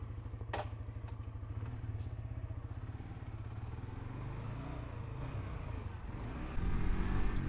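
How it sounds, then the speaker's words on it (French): Motorcycle riding noise picked up inside a helmet: a steady low engine drone with rhythmic pulsing and wind rush, rising a little louder near the end. "qu'il n'y a pas trop de problèmes avec le bruit de la moto en elle-même"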